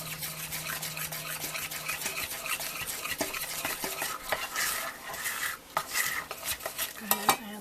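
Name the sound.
stirring homemade caramel icing in a pan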